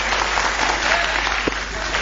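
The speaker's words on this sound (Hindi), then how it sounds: "ऐसे ताली बजती है," Audience applause from a comedy performance: dense, continuous clapping that stays loud and steady for the whole two seconds with no voices standing out.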